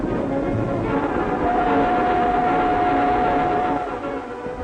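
An English railway train running, with a steady loud rumble and rattle throughout and a faint sustained tone in the middle, fading slightly toward the end.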